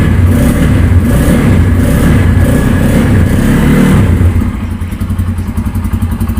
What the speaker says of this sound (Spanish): vamos a comenzar a encenderla para que conozcamos un poquito más del sonido de motor y escape de esta bonita motocicleta